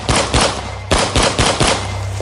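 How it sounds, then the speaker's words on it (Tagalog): Rapid bursts of gunfire from a gun fired at a creature in a horror story, loud and close, in several quick clusters of sharp cracks with brief gaps between them. "Agad kong pinaputokan ng baril ang aswang ng sunod-sunod"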